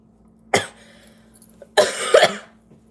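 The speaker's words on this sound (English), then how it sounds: "This cough ain't no joke." Two harsh coughs from a sick person, close and loud: a sharp single cough, a pause, then a longer rasping fit trailing off, with no speech.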